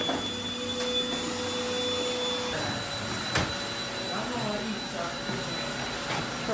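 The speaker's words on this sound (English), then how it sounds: "vacuuming right now." A vacuum cleaner runs steadily at close range with a constant whine, picking up dog hair from a small item at home, its tone shifting partway through as the nozzle moves.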